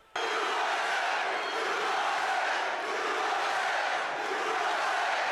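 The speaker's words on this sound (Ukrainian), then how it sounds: "Учасники мітингу аплодують" A large crowd at a Trump political rally applauds and cheers in a dense, steady roar that starts abruptly and holds loud for several seconds.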